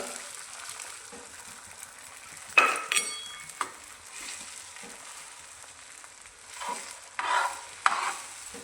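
Beaten egg cooks in a pan for a sandwich, giving a soft steady sizzle broken by a few sharp utensil scrapes and clinks against the pan, heard close up with no voices.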